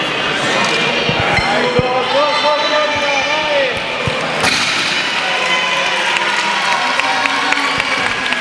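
Sustained crowd applause and cheering at a powerlifting meet, following a lifter's 210 kg second attempt at a Sardinian single-lift championship in Iglesias, with scattered claps and thumps over a dense, steady roar and background voices.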